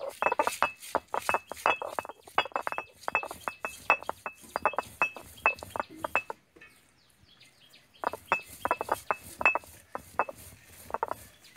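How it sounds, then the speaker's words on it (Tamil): Roasted chilli, coriander, pepper and fennel being ground by hand on a stone ammi, rapid scraping and clinking strokes in bursts, close and distinct, with a brief pause partway before the rhythmic grinding resumes. "இதை அம்மியில் வச்சு அரைச்சிக்கலாம்."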